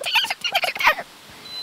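A voice imitates a shrill, chattering animal call from Madagascar, giving about a second of rapid, high-pitched chatter, loud and close, followed by quiet.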